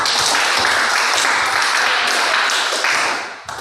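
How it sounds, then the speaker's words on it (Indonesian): A classroom of students clapping together during a history lesson, a loud, dense burst of applause that holds steady for a few seconds and then tapers off near the end. "Tepuk tangan untuk kita."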